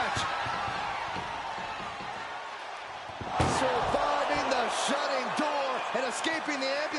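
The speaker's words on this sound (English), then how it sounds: "Trying to at least slam one door shut." In a WWE 2K MyRise ambulance match, an ambulance door slams shut with a sudden loud bang partway through, over crowd noise and commentary voices.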